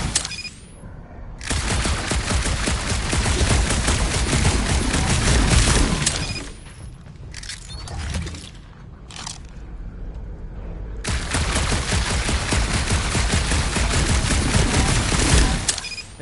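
Gunfire in Marvel's Guardians of the Galaxy comes in two long, dense, loud volleys of rapid shots, one early and one late, with a quieter stretch of scattered single blasts between them.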